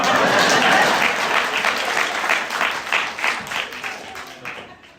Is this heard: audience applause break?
yes